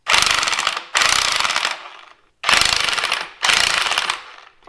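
Ratchet wrench tightening a spring compressor on a Bilstein 6112 front strut for an FJ Cruiser or 4Runner lift kit, four loud bursts of rapid clicking ratchet strokes close by, with short pauses between them.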